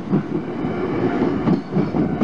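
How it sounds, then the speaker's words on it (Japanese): A JR Hanwa Line 225 series 500 train rumbles past near a level crossing, a steady loud roll of wheels on rails with rhythmic clatter throughout. "今ちょうど225系のですね、500番台が通過して"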